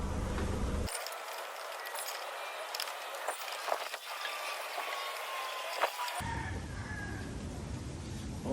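A screw being backed out of a Honda Civic front bumper, a dense metallic ratcheting with faint clicks at close range, without any talk.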